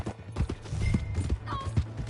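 Horse hooves clip-clop on the ground in the video game Red Dead Redemption II, a quick, fairly soft rhythmic trot under a low ambient hum, with a faint whinny.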